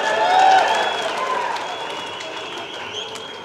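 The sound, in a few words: audience applause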